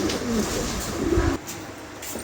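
A pair of tiger-coloured Mundian pigeons cooing at a pigeon farm, a steady low cooing close by over a continuous background hum, with no talk.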